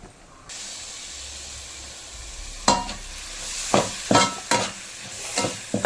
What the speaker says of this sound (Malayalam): തക്കാളി അരിഞ്ഞു വന്നിട്ടുണ്ട് അത് ചേർക്കാം